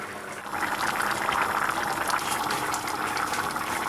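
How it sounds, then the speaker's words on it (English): Sausage casserole stew simmering in a pot, a dense bubbling burble that holds steady for a few seconds without any talk. "this has now simmered down to a good amount of liquid"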